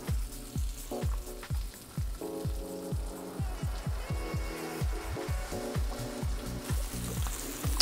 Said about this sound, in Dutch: De buikspek is krokant aan het bakken.